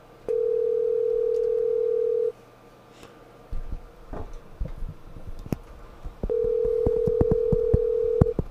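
An outgoing telephone call rings back with two long, steady electronic tones separated by a pause, and faint clicks and handling noise fill the gap between them.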